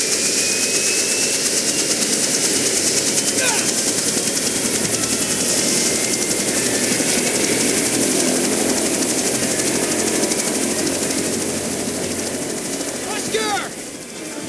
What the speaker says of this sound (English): Set the chopper down.